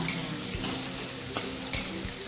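Onion frying in oil with asafoetida for a cucumber sabji gives a constant close sizzle, broken by a few distinct clacks of the spoon stirring against the pan.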